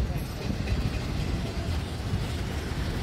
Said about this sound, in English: that's a very long train too